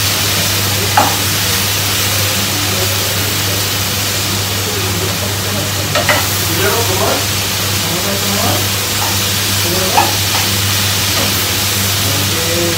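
Egg fried rice being stirred and mixed in a pan, with a scraping, sizzling texture and a few sharp clinks of the utensil over a constant low hum.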